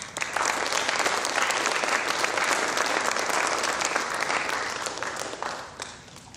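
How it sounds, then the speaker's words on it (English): A hall-of-fame induction ceremony audience breaks into a dense, loud round of applause that holds steady for several seconds before tapering off near the end, with no voices over it. "Please give everyone a huge round of applause."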